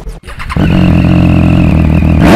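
A TVS Apache 200 2.0 motorcycle engine revs hard after a brief rough start, then holds a loud, steady, close-up roar at high revs that climbs slightly near the end.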